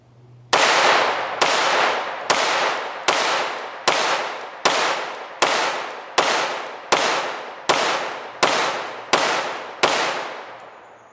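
A Beretta Model 80X Cheetah pistol fires Norma NXD ammunition in about thirteen loud, evenly spaced shots, each a sharp crack with a ringing decay, heard alone with no talk.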